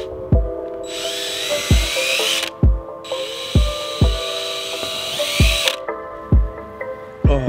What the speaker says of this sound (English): I'm going to just literally just drill through them into the bonnet, into the bumper